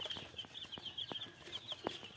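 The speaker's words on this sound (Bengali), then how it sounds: "এগুলো টাইগার মুরগির বাচ্চা।" Four-day-old tiger chicken chicks on a farm, a steady high-pitched peeping chorus with soft scattered taps and rustles underneath, fairly faint and continuous throughout.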